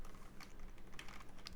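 Soft, sparse key taps on a computer keyboard while entering Minecraft mod code, faint and close, with irregular clicks spread across the stretch.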